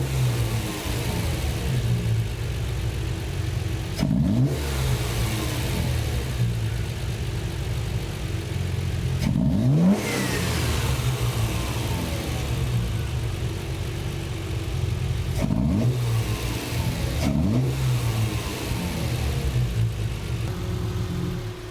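Fuel-injected Triumph TR6 engine, converted from carburettors, idles steadily then blips up in sharp revs several times, each rise falling quickly back to a loud, close idle with no talking.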